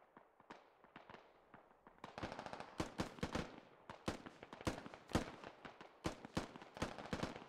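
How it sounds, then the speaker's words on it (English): Rapid bursts of gunfire in the video game Squad crackle in quick irregular succession, growing denser and louder, some shots sharp and close, others more distant. "We're going to get back down to the south where we're hearing some gunfire."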